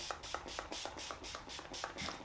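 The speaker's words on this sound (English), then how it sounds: "I'm just gonna spray all this in" Short hissing bursts of a hair spray can repeat in a quick, even rhythm, about eight puffs close to the listener, while styling a hair system into a textured quiff.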